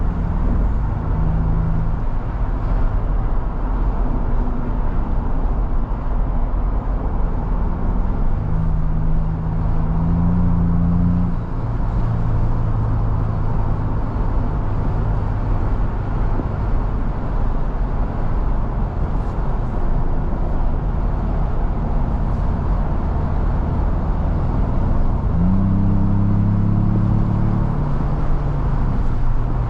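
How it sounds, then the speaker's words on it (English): Continuous engine drone and road rumble from inside a 2025 Ford Bronco Big Bend with a turbocharged 2.3-liter engine cruising on a highway, with occasional low engine tones rising and fading. "now let's see how it is to drive this Bronco on a highway"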